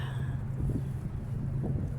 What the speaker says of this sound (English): You hear the wind.